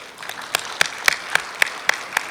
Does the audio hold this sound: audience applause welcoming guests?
yes